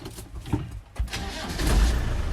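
A diesel Land Rover 90 with a 300 TDi engine cranks and fires, rising from a brief starter churn into a steady, louder idle rumble that builds over the last second, close by with no talk.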